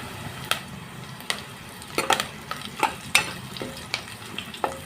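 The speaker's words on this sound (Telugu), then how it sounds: "ఇప్పుడు వచ్చేసి కరివేపాకు వేసుకుంటున్నామండి" Curry leaves hit hot oil with ginger-garlic paste in an okra curry, giving a busy frying crackle, punctuated by repeated sharp spoon taps and stirring scrapes against the pan.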